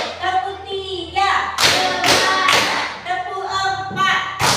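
A classroom group claps in a counting clap game, bursts of sharp claps in quick clusters mixed with children's voices chanting along.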